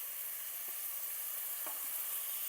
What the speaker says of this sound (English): now that the onions and the tomatoes are starting to saute